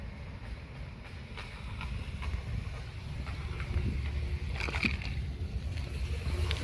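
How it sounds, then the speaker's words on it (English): Water from a yard rushes and gurgles steadily into a storm drain nearby, a continuous splashing flow that grows slightly louder, with faint trickles and drips on top. "You can hear the storm drain."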